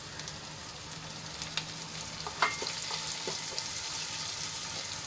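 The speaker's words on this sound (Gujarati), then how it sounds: "ટમેટું આપણું સોફ્ટ થાય ત્યાં સુધી એને સાંતળી લઈશું" Onion and chopped tomato sauté in a hot pan with a continuous close sizzle and frying hiss, broken by a few soft stirring scrapes.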